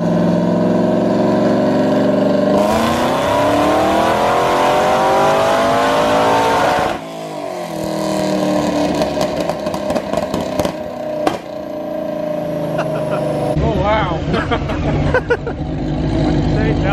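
A Camaro ZL1 engine revs hard on a dyno through back-to-back rising pulls, roaring and whining up, dropping off, then revving again with crackles and pops; voices chatter faintly underneath.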